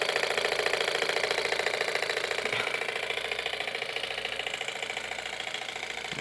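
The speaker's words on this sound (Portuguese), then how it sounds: "Esse é o som do motorzinho." A homemade miniature engine with visibly moving pistons, fitted to a scale model of a 1620 truck, runs steadily with a fast, even knocking putter and a metallic rattle, close and continuous throughout.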